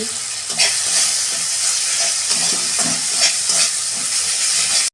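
Vegetables for a fish curry with ridge gourd, potato and eggplant fry in a pan with a constant close hiss and sizzle, broken by occasional scraping stirs, with no talking.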